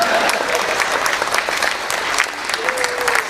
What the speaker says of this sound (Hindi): ये जो 400 लोग जो ताली बजा रहे हैं